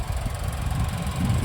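Under the open hood, a 2022 Mitsubishi Outlander SEL Premium's 2.5-liter four-cylinder gas engine idles with a steady low rumble and faint mechanical ticking, nearby and constant, with no voices over it.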